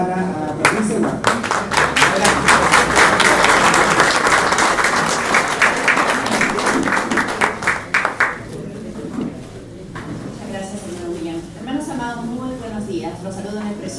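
An audience at a church conference gives a warm round of applause to welcome someone speaker, with dense, loud clapping for about eight seconds. It then fades into scattered claps while a voice begins speaking.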